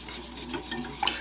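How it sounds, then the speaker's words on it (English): Melted butter being whisked into buttermilk in a bowl for cheddar biscuits, a close, steady wet swishing with a few light clinks of the whisk against the bowl near the end. "we're just going to whisk it into the buttermilk"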